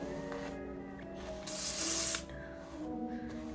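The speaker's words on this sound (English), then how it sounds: "And the spray is just making sure that all the flyaways get smoothed out." A short, close burst of hairspray misted onto freshly styled hair, a soft hiss of under a second against quiet room background.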